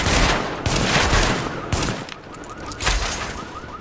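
Rapid gunfire from the video game The Division, dense overlapping bursts of automatic shots crackling in quick succession, loud and close throughout.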